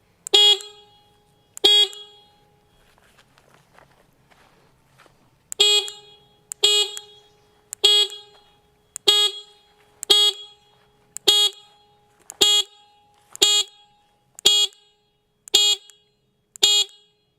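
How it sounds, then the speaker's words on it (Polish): A bright, piercing electronic car horn mounted on a bicycle beeps repeatedly: two blasts, a short pause, then about ten evenly spaced loud toots in a steady rhythm. "bardzo dobre, jeśli chodzi o klakson rowerowy"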